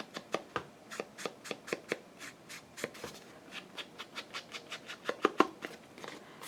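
A stack of paper flashcards being handled and flipped, a quick series of crisp papery flicks and taps at an irregular pace, close and quiet with no talk.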